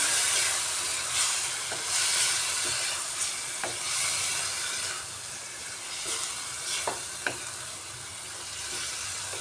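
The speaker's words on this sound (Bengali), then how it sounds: "এবার এটাকে আরও কিছুক্ষণ কষাতে হবে।" Spice paste with water for a coriander-leaf egg curry sizzles steadily in a pan, a constant hiss broken by occasional light scrapes and taps of stirring.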